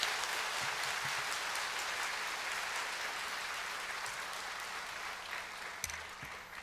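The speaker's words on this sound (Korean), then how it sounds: "우리 목사님 크게 박수로 맞이해 주셨으면 좋겠습니다." A church congregation at a Sunday service in Mokpo claps in sustained, dense applause for several seconds, a steady wash of hands that slowly eases off.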